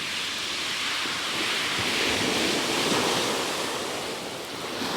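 Sea waves break steadily on the shingle beach at Pevensey Bay under a northerly wind, with a continuous loud wash of surf and wind noise on the microphone and no voices.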